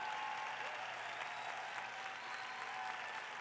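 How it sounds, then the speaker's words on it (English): Steady, dense audience applause at a keynote stage event, a broad wash of clapping from a large crowd that holds at an even level throughout, with no talk over it. "That deserves a big round of applause."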